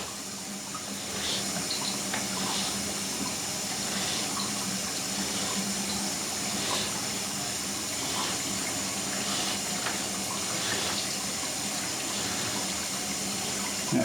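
Tap water runs steadily into a drain area beside a removed toilet during a clog repair, a faint, even splashing rush that continues throughout with no voices.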